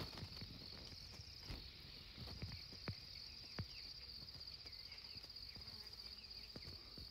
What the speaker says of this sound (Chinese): 小蜜蜂在那嗡嗡嗡嗡的